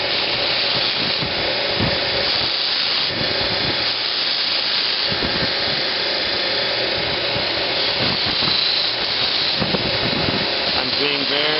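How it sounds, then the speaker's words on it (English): A belt sander whirs continuously with a loud, broad hiss as a small metal pawl part is lightly pressed and rotated against the belt, with faint grinding variations throughout. "if you're going to use the belt sander, be careful"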